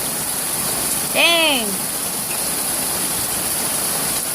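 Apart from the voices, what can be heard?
very hard rain falling outdoors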